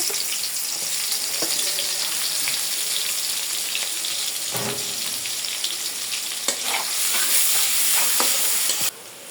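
Chopped onions sizzle steadily in hot oil with bay leaves and garam masala spices, with occasional stirring and scraping in the pan and no talking.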